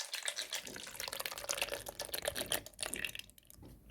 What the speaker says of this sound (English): First, you need to pour the coconut milk into the blender with the chopped bananas.